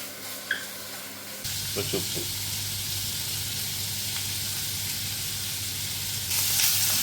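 Onions, medium-sized, sautéing in a pot for chicken stew: a steady broadband sizzle starts abruptly after a quiet opening, with a few scraping stirs early on and a brighter hiss near the end.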